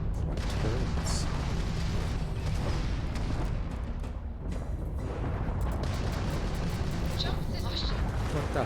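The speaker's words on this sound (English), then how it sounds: "You just shot me like a dozen times. Those funnels or turrets or whatever that was." Rapid, heavy gunfire from turrets in the video game Starfield hammers almost continuously and loudly, a dense barrage of shots with a player's voice talking over it.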